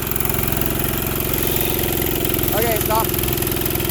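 A mini go-kart engine idles steadily with a dense mechanical rumble throughout, close and fairly loud, while a person speaks briefly over it near the end.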